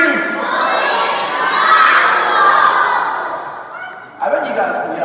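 A crowd of school children in an assembly shouts loudly together in unison, a sustained, dense roar of young voices that dips briefly and then swells again near the end.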